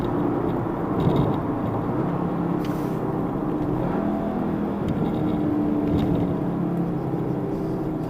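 A 2017 Audi TT S engine hums and drones steadily from inside the cabin while driving, a loud continuous low rumble with slight swells of revving.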